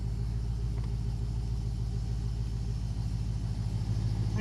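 A Porsche 928 Turbo engine runs steadily at idle, a constant low rumble that stays close and even with no voices over it.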